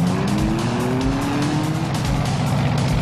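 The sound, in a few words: race car engines on a rural racetrack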